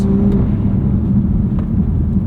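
BMW M2 Competition F87, a 2020 car, driving with a steady low engine and road rumble heard from inside the cabin, continuous and fairly loud with no speech.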